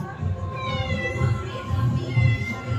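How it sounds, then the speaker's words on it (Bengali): A cat meows repeatedly in drawn-out cries, close and fairly loud, with a person talking over it. "ম্যাও ম্যাও ম্যাও করে যাচ্ছে"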